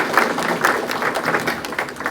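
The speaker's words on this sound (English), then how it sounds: "Let's give a round of applause." Audience at a community foundation spring grant celebration applauding, a steady wash of many hands clapping close and fairly loud throughout.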